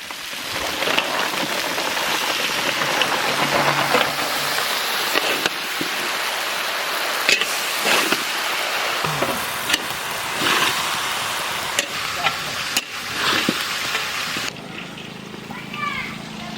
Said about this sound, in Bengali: পটল চিংড়িটা সুন্দর করে কষানো চলছে।